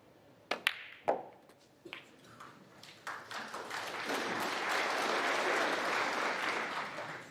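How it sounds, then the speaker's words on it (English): A few crisp snooker ball clicks open a Masters snooker match between Shaun Murphy and Zhang Anda, then arena applause builds into a broad, sustained wash of clapping that grows louder and holds steady. "Round of applause"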